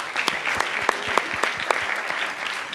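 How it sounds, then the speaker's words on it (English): Audience applause at the Accelerate2030 event in Geneva for Raphael Petit of Rainbow Ecosystem, steady dense clapping from a crowd throughout, without talk. "but a big applause again to Raphael."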